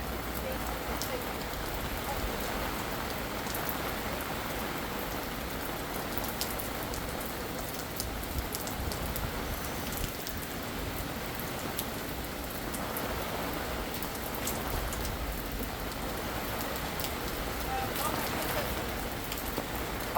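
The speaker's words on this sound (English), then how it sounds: "we're getting the rain that we need" Heavy thunderstorm rain pours onto a wooden deck in Utah, a dense, steady hiss of drops that stays even and unbroken for the whole stretch, with no voices.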